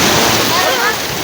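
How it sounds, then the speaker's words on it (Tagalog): Strong sea waves crash and wash onto the shore at Isla Verde, Batangas, a loud, dense roar with wind buffeting the microphone throughout. "Grabe ang alon."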